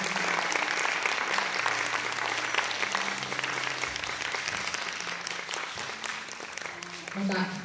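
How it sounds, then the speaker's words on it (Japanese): An audience at a live concert at a community centre applauds a band and other performers, dense and steady for several seconds, while a voice on a microphone speaks over the clapping and lower tones sound beneath it. "今一度出演者の皆様に大きな拍手よろしくお願いいたします。"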